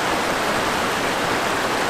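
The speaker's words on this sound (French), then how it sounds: "On va voir quelques petites cascades sur le chemin." Small waterfalls along a winter hiking trail in Iceland give a constant, dense rushing hiss of falling water, steady and fairly loud with no voices.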